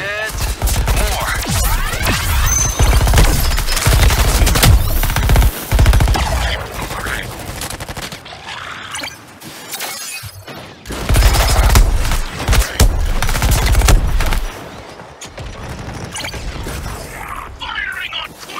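Rapid bursts of gunfire from the video game Suicide Squad: Kill the Justice League, loud and dense, with repeated volleys and booms broken by short lulls.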